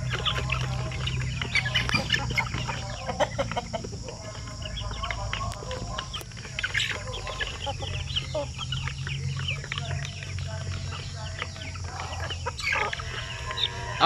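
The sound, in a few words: Basilan breeder chickens clucking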